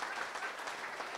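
A short burst of steady, dense audience applause fills the room at a Brewbound Brew Talks brewery business event hosted at Golden Road in Los Angeles, with no one speaking over it.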